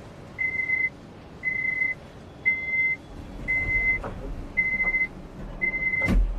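In Train Sim World, an S-Bahn Rhein-Ruhr S1 train sounds its door-closing warning: six evenly spaced, high electronic beeps, each about half a second long, over a low cab hum, ending with a short clunk.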